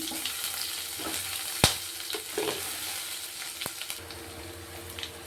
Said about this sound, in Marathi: जिरं चांगलं तडकायला लागलं त्याच्यामध्ये आता अद्रक लसूणची पेस्ट टाकायची